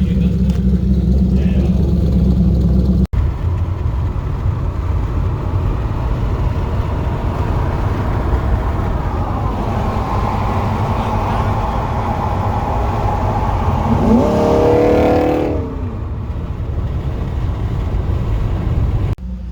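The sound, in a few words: Corvette engine revving through aftermarket exhaust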